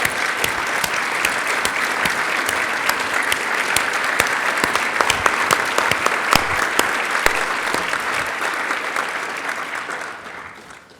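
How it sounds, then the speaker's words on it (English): Sustained applause from an audience at a benefit event as people stand to be recognized, a dense steady roar of many clapping hands lasting about ten seconds before tapering off at the end. "Let's have all current Circle of Builders in the room stand for a round of applause."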